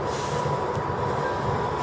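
A Virgin Pendolino at Milton Keynes Central station gives a steady, close rumble of rolling wheels and running gear, with a brief high squeal partway through.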